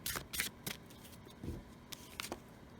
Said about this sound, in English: Let's draw some more cards, or a few more tarot cards.